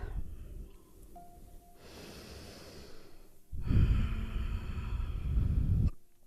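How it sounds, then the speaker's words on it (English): Deep, full breaths during yoga practice, a slow quiet inhale followed by a louder, longer rushing exhale, close to the microphone with no talking. "Take a couple breaths in whatever you're choosing in your practice. Let the breaths be full."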